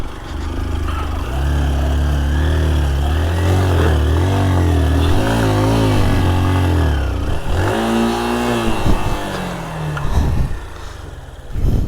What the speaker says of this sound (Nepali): सोतापाटनसम्म मोटरसाइकल लिएर जान्छौँ